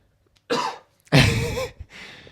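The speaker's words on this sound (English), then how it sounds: "The lone cough returns." A lone person coughs, a short quiet cough followed by a louder, longer harsh cough and a softer trailing one, close and clear in a quiet room.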